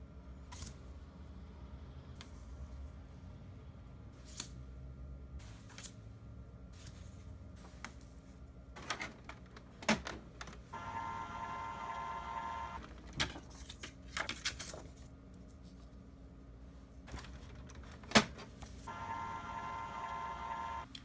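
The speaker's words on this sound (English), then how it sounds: "I'm gonna go ahead and throw these into my scanner" A flatbed scanner passes over hand-drawn comic pages in a quiet room, with faint clicks and knocks and two stretches of steady motor whine as the scan head moves.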